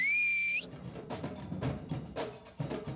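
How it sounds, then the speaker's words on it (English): A single bright whistled note from a person waiting in a crowd for a torch relay, held briefly and rising slightly at the start, followed by faint crowd murmur and talk. "Whistle. Give us a demonstration."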